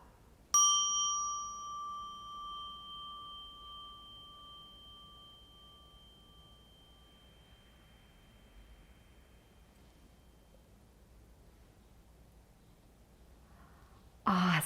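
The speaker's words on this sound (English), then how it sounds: "I'm gonna ring the singing bowl" A singing bowl is struck once, giving a bright metallic ring with a clear fundamental and high overtones that sustains and slowly decays over about ten seconds in a quiet room, followed by faint rustling at the end.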